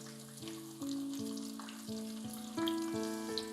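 Prawns frying in a pan for chilli garlic prawns give a soft, steady sizzle under louder background music with shifting sustained tones, and no one speaks.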